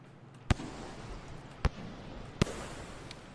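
Three sharp explosive pops from the Artificer in Rain World Downpour, spaced about a second apart over a soft ambient hiss, each a brief loud burst followed by a faint fourth crackle.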